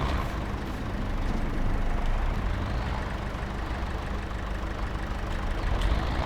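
A vehicle engine in the farming game Vintage Survival runs steadily while filling, a constant low idling rumble that holds at an even level throughout with no one talking.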